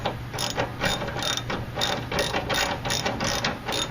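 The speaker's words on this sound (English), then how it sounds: "Just get an extender and a ratchet." Ratchet with an extension turning 14 mm fuel tank bolts on a Mazda 626, a steady run of quick, light clicking pawl strokes repeating close by with no talk.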